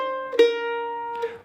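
A mandolin plays a short phrase: a picked note, a hammer-on to a higher tone, then a long tied note ringing on before a soft final pluck, clear and close with no other sounds.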